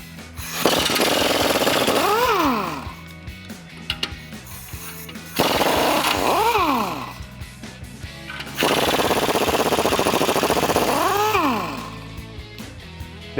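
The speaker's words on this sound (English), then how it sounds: "Now we're just gonna use a 21mm socket to take these 4 nuts off of our U-bolts here" Impact wrench with a 21mm socket spinning off U-bolt nuts on a 2015-2020 Ford F-150 axle, three loud sustained bursts of whirring and hammering separated by pauses, each rising in pitch toward its end.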